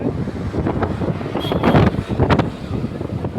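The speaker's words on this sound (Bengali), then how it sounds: "প্রচণ্ড হাওয়া দিচ্ছে" Strong wind buffets the microphone in a loud, continuous roar with gusty surges beside the monsoon Ganges at Diamond Harbour, and water sloshes faintly in the background.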